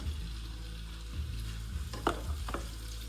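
Tomatoes sizzle softly in a pan for chicken curry while being stirred, with a steady low fry broken by a few scraping, clattering stirs near the end.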